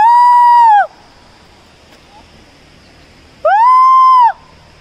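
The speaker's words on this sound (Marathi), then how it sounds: "जोरात किंचाळा, जोरात किंचाळा." At the Tamhini Ghat waterfall, people let out two long, loud, high screams separated by a quiet pause.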